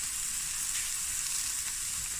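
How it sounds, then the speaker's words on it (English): Chicken and mushroom stir-frying in a 30 centimeter frying pan on a stove, a steady close hiss and sizzle of oil with faint scraping of stirring underneath, no talking. "I'm cooking on my other stove on the island."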